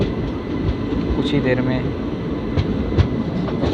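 Heard from aboard an ICF coach, the Pune–Amravati Express (11405) enters Parli Vaijnath railway station with a loud, steady rumble, clickety-clack wheel beats and a brief wheel squeal, while someone talks over it.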